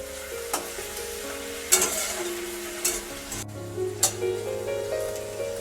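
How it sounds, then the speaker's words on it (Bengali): Kharkol leaves frying in a pan over a low gas flame, with a steady sizzle and several sharp scrapes and clinks from a spatula stirring at irregular moments, heard close up with no talking. "গ্যাসের ফ্লেমটা লোতে রেখে এর ভিতরে যে রসটা থাকে পুরো শুকিয়ে নিতে হবে"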